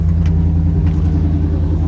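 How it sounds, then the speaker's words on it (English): A 1987 Chevrolet Camaro IROC Z28 with new dual exhaust rumbles at a steady idle, a deep, loud, throbbing low note held close and alone, with a couple of faint higher whooshes over it. "It's kind of gnarly sounding dual exhaust."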